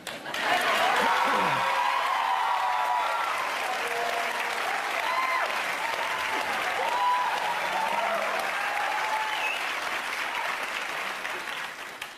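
A studio audience on a daytime talk show about cheaters claps steadily and loudly for about twelve seconds, with scattered chuckles and faint voices mixed into the dense applause.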